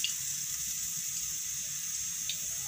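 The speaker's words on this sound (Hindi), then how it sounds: "तेल डाल दिया हमने," Oil going into a hot kadhai on a gas stove for aloo bhaja, a steady faint hiss and trickle that holds evenly throughout, quiet and without talk.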